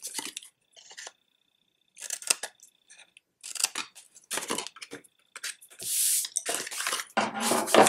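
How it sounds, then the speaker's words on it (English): Scissors snip wedges out of small paper box tabs, a string of short crisp cuts in uneven bursts with brief pauses between, close and fairly loud. "I'm going to cut a wedge out of both sides of both of these."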